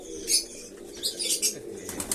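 Pigeons flap their wings in several short bursts during a morning feeding, close by, with soft fluttering rising and falling over quiet background noise.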